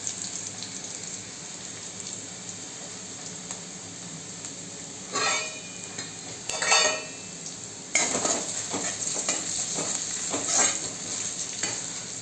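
Garlic sautéing with turmeric in a pan, a low steady sizzle broken by bursts of stirring and scraping that grow busier toward the end, close by.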